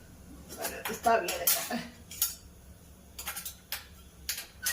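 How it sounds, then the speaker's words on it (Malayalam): Metal utensil scraping and clinking against a cooking pot of chicken in coconut milk in irregular bursts, close by, with brief pauses between strokes. "അപ്പൊ അത് നമുക്കൊന്ന് ഇളക്കിയും കൂടെ കൊടുക്കാം"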